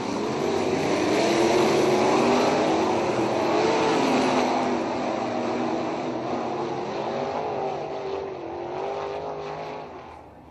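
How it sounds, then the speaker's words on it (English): Sprint cars on the Patriot Sprint Tour at a speedway, an eight-car field heading into a qualifying heat, roar past with loud engine drones and rising, falling pitch as they run laps, with no talk. "So Tyler Hendricks about to ignite the 8-car field here for qualifying heat number 3 with the Patriot Sprint Tour."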